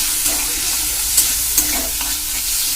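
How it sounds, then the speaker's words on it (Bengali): Spices and chili powder fry in a pan under steady close sizzling, with a couple of soft stirring knocks and no talking. "লঙ্কার গুঁড়ো দিলাম। এবার আমি কিছুক্ষণ কষাবো,"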